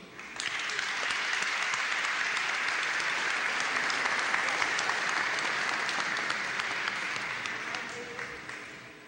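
A chamber full of people claps for honored 1975 Copa América champions in a congressional ceremony, the dense applause rising quickly, holding steady for several seconds and gradually fading at the end.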